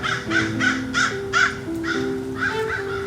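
Several crows cawing in a series of harsh, rhythmic calls, loud and close, about six caws spread evenly over a few seconds with no talking.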